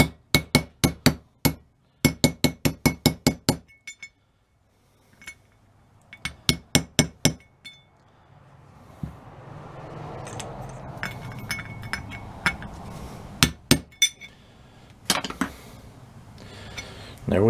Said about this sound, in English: the ball peen hammer for a little tappy tap tap